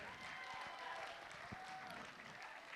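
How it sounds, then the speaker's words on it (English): Audience at a community event in Adelaide clapping continuously, a dense spread of applause heard at a faint, distant level with a little crowd noise mixed in. "Give them a round of applause"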